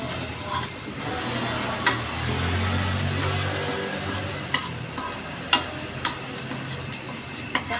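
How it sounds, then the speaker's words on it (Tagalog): Garlic and onion frying in a pan for adobo, a steady close sizzle with occasional stirring clinks and scrapes of a utensil against the pan, no voices. "Unuhin muna natin yung bawang at saka sibuyas. Lutuin muna natin siya."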